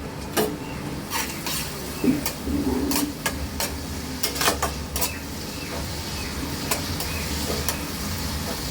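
A spice paste with grated ginger is sautéed and stirred in a pan. A spoon clinks and scrapes against the metal in irregular taps over a low, continuous sizzle.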